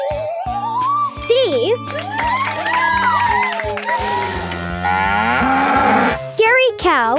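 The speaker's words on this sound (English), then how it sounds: "Dairy cow." A dairy cow moos loudly in a children's animal-names learning song. Drawn-out lowing calls sound over bright music with jingles and sound effects.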